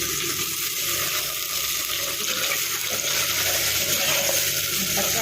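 Onion and golden garlic frying in oil for a Tamil fish curry, a steady, even sizzling hiss that carries on without pause throughout, with no talking.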